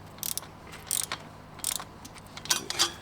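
A 17 mm bolt is tightened on a ground screw bracket for a garden room build: four short bursts of ratcheting clicks, close but fairly quiet, with no talking.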